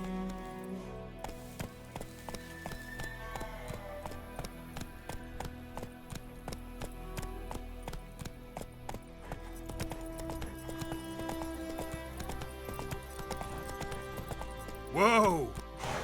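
Hooves of Roach, a horse in The Witcher 3 video game, clip-clop in a steady running rhythm under game music and occasional talk, with a sharp sound burst near the end.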